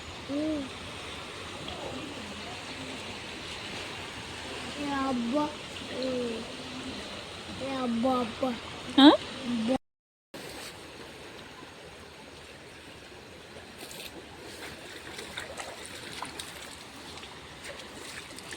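Water rushes steadily from a dam in the background, a soft continuous roar, with a few brief voices and odd calls partway through and a short dropout.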